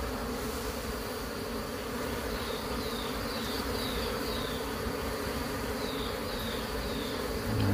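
Honeybees swarm around backyard beehives kept for honey, producing a dense, continuous buzzing that holds steady and close for the whole stretch, with no voices.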